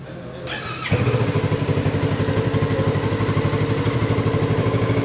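A 2023 Kawasaki Z650 motorcycle engine cranks and fires up, then settles into a steady, loud, pulsing idle close by.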